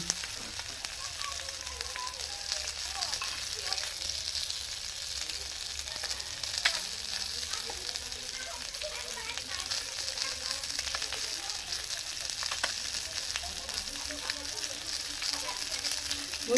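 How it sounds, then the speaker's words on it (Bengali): Fish fries in hot oil in a village kitchen during breakfast preparation, giving a steady close sizzle with scattered sharp crackles and pops throughout. "সুন্দর মাছটা ভাজা হয়ে গেছে মাছটা তুলে নিচ্ছি"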